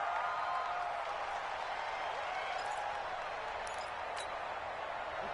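A stadium crowd in a PS4 football video game roars steadily and loudly as a home crowd near the goal line, a dense, unbroken wash of cheering noise with no clear talk.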